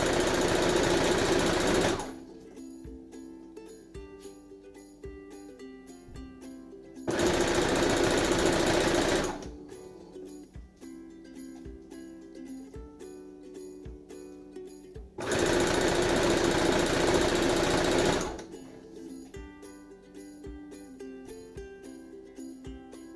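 Sewing machine basting a hat with the foot edge as a guide, loud rapid mechanical stitching bursts of two to three seconds alternating with quieter intervals of faint clicks and handling noise.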